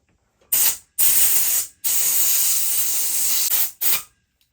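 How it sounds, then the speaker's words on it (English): Loud bursts of compressed air blasting under a handlebar grip on an Aprilia RS660 Factory, four sharp hissing blasts with brief pauses, the longest one steady for about two seconds. "Some people use compressed air, which is what I will be using here"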